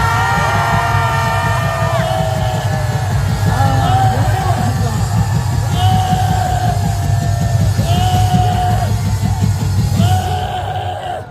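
A large crowd at an outdoor political rally in Korea yells, whoops and cheers continuously, a dense wall of voices with applause mixed in and shouts rising and falling throughout.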